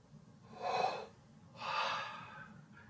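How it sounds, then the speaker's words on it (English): A trombone player warming up takes two deep, audible breaths, each a soft rushing inhale close to the microphone, with quiet between them. "Need to do better breathing."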